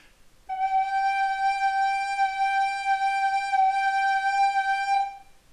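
A recorder sounds a single sustained G, a pure, steady whistle-like tone held for about four and a half seconds before cutting off cleanly, played alone in a quiet room.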